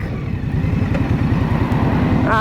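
A 2023 Indian Scout Rogue motorcycle with a 69-cubic-inch, roughly 1,100 cc V-twin idling close by, a loud, steady low throbbing pulse.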